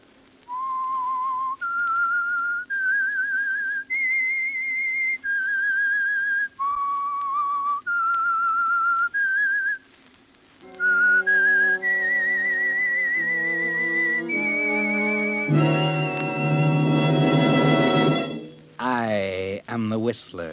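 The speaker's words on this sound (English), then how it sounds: "That whistle is your signal for the Signal Oil program" A whistled theme melody signals a radio mystery drama, a clear sequence of sustained whistled notes rising and falling, then joined by a full orchestral swell with a rising flourish at the end.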